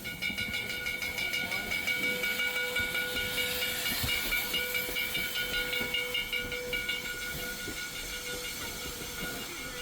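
An 1880 steam train in the Black Hills of South Dakota hisses steadily and loudly throughout, with a sustained steam whistle tone running across the whole stretch and rhythmic chuffing beneath.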